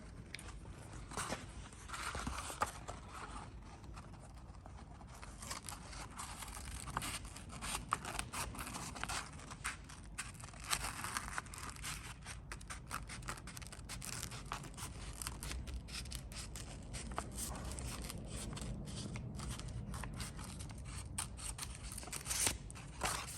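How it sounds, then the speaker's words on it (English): Scissors snip through a paper template in a workshop, cutting out a fish-mouth pattern for a monster truck chassis tube; steady close crisp cutting and rustling of paper continues throughout without speech. "get a pair of scissors out, cut that out."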